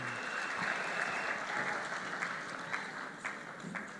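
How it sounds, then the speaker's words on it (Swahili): An audience at a political gathering in Tharaka Nithi, Kenya, claps steadily to welcome arriving dignitaries, a continuous, fairly distant round of applause with no voices over it. "Tuwapigie makofi wanapokuja."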